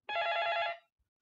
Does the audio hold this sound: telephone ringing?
yes